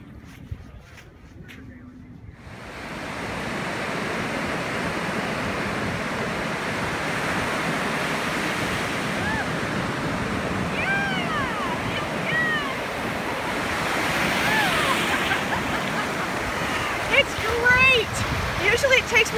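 Ocean surf rolls onto the beach at Santa Monica in a continuous loud wash with wind buffeting the microphone, after a brief quieter start, and a few faint high bird or voice calls come through near the end.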